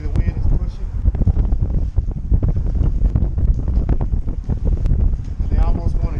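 Strong wind buffeting the microphone out on Lake Conroe during kayak fishing from a Hobie Pro Angler, a loud, constant rumbling roar with gusty bursts filling the whole clip.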